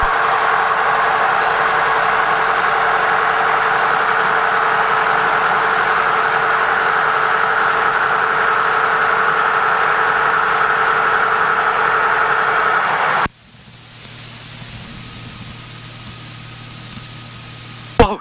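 Light aircraft engine running steadily at a loud, constant drone while taxiing on a French airfield runway after a first solo flight, cutting off abruptly near the end to a much quieter hum and a brief click.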